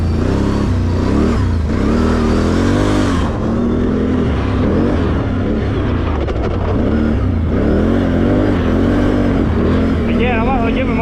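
Engine of a Can Am Renegade 1000 ATV running loud and close throughout, with a steady low drone and rising, wavering revs as the throttle is worked in light bursts, a voice speaking over it at times.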